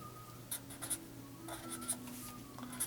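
Pen or pencil scratching numbers onto paper in short strokes and taps, fairly quiet and close, with a steady low hum in the background.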